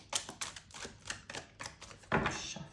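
Tarot cards being shuffled by hand, a run of quick papery riffles and slaps in an irregular rhythm, close and fairly loud, ending in a sharper burst.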